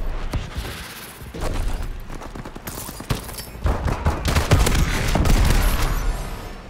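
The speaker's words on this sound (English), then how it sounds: "Oh my gosh, I love this shotgun." Rapid bursts of shotgun gunfire from Call of Duty: Advanced Warfare, loud and close, with repeated booming blasts and clattering game mechanics building in intensity.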